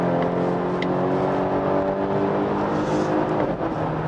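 A Volvo S60 B5 with a 2.0-litre gasoline engine and 8-speed automatic accelerates steadily, heard from inside with a constant engine drone mixed with wind and rough road noise, no talking.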